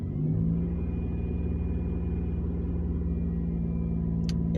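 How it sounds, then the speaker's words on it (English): A Buick 3800 3.8 liter V6, a car that won't start until a P0101 code is cleared, rumbles up into a gentle, sustained rev as the gas is pushed a little, heard steady and close. "I'm going to push the gas just a little bit"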